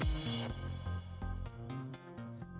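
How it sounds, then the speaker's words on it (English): Synthesized cricket chirps built with Absynth, Massive and Alchemy pulse in a rapid, regular series of short, bright chirps over a low electronic tone, close and alone without any talk. "It has been interesting to note the vast range of sounds that we can perceive as cricket chirps."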